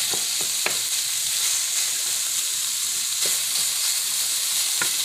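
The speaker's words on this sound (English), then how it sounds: "I'm going to just cook this with my ground beef." Ground beef frying in a pan with bell pepper and celery for a stuffed pepper casserole, a loud continuous sizzle with a few sharp clicks of stirring.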